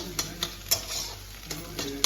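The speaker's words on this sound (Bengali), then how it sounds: "ডিম ভাজা হচ্ছে, ডিম ভাজাটা হয়ে যাচ্ছে" Six eggs fry in a pan with a soft, low sizzle, punctuated by several sharp clicks of a utensil tapping and scraping against the pan; no one speaks.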